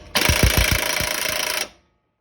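An impact wrench hammers briefly on a vehicle's pinion nut, a loud rapid rattling burst of about a second and a half that cuts off sharply into silence.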